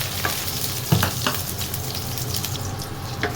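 Garlic sautéing in hot oil in a pan, a steady close sizzle with a few stirring scrapes, no talk over it.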